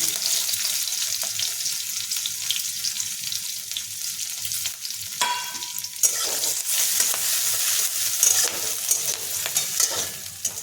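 Radhuni seeds, green chillies and garlic crackle and sizzle in hot oil, a bright constant fry broken by stirring scrapes and a burst of spitting midway, with no voices.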